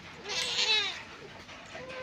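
A house cat gives a single drawn-out, rising and falling meow, close and fairly faint, in a quiet garden setting with no talking.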